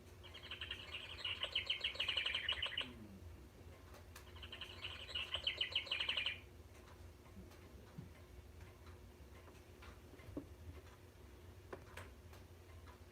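Two bursts of rapid, bubbly house wren trilling from a bird clock, each a few seconds long, separated by a pause, with faint steady ticking underneath.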